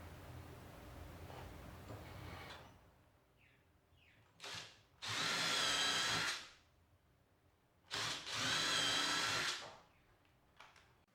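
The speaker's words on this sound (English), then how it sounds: "pre-drill it and then screw them on." Two bursts of a high-pitched power drill whirring as it pre-drills a door, each a few seconds long, separated by quiet pauses with faint handling noise.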